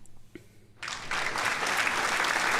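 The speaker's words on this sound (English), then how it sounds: "thank you very much for the well-deserved applause" Audience applause on a guitar livestream welcoming guest Maury Rich, rising suddenly after a few soft knocks and holding steady as a bright, continuous clapping wash without speech.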